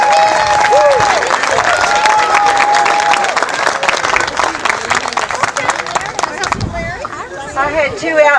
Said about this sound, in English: Give her a rousing round of applause.